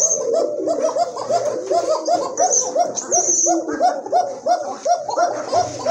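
Pigeons in a loft give a run of rhythmic, repeated coos, close and fairly loud, with a voice briefly in the background.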